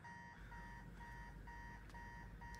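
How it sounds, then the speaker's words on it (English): An alarm clock rings in the Spider-Man 2 video game, repeating rapid electronic beeps in steady bursts, clear and unbroken with no talking. "Let's go ahead and shut his alarm off."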